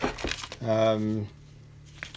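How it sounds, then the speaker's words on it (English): A plastic bag being handled, giving a short loud burst of crinkling that stops abruptly, with a voice speaking briefly before and after, all close by. "Plastic bag."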